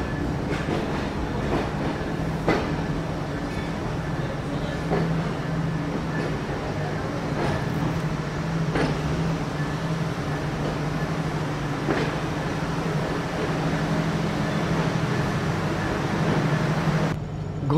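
The Chitra Express night train rolls into Kotchandpur railway station, a steady loud rumble with rhythmic clickety-clack of wheels over rail joints throughout, with faint talk at times.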